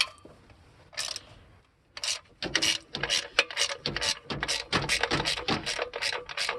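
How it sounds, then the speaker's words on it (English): Ratchet loosening valve cover bolts on a small block engine in a Squarebody Suburban, rapid close clicking strokes in repeated bursts after a quiet opening with a brief metallic rub. "all you do is you loosen up these 4 bolts on the top right here"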